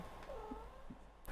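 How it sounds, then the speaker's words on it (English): A cat meows close by indoors, one short plaintive meow rising over a low background hum, faint and brief. "Cat's being annoying."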